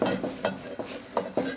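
Corn kernels tossed and stirred in a hot wok with a buttery sizzle, several rhythmic scraping flips at irregular intervals, close and fairly loud.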